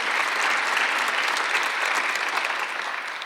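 Steady applause from a church congregation during a Sunday service, dense and sustained clapping that holds at an even level throughout before easing slightly at the end.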